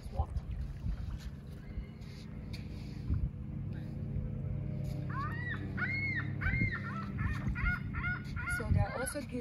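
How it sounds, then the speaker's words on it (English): Geese honk in a lakeside park at Lion's Head, Ontario, giving a run of repeated nasal calls in the second half. They sound moderately close over a low outdoor rumble, with faint voices in the background. "Also geese here, eh?"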